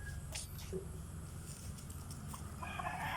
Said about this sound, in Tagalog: Akila and the chicken.